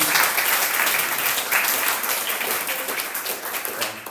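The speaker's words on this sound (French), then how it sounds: "On peut applaudir aussi pour sa venue." A church congregation breaks into sustained applause, a dense, steady wash of many hands clapping that holds throughout and fades slightly toward the end, with no voices over it.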